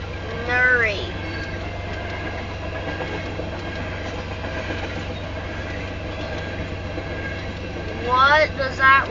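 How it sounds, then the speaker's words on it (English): A southbound Union Pacific tanker train on a rural Iowa line rolls past with a steady rumble and clatter of wheels, while people talk in the foreground at the start and again near the end. "That's a tanker train, you see that?"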